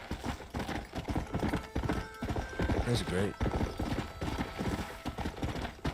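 A horse ridden through the open country of Red Dead Redemption gives a steady, close clip-clop of hooves at a brisk rhythm throughout. Someone speaks over the hoofbeats.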